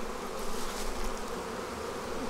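Dense, steady buzzing of many honey bees swarming around an open hive box during a spring inspection, a continuous drone close by with no voices.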